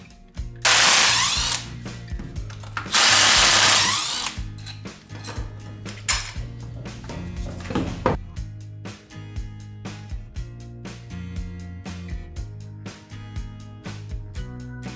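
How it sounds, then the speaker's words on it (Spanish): A Torx T25 screwdriver removes the four screws from the head cover of a Bosch angle grinder. Two loud, close bursts of driving are followed by lighter ratcheting clicks and taps, with steady background music. "Con el destornillador y la punta Torx T25 retiramos los 4 tornillos de la tapa del"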